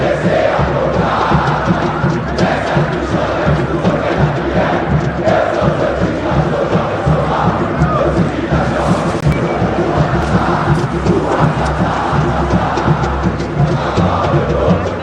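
Santos football supporters chanting in the stands at Vila Belmiro during a match against Coritiba, a loud, steady wall of massed voices with rhythmic pulsing chants throughout, no commentary over it.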